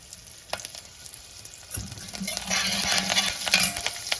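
Curry leaves and asafoetida hitting hot oil, starting quiet with a few light clicks, then breaking into a steady, crackling sizzle that swells louder and stays close with no talking.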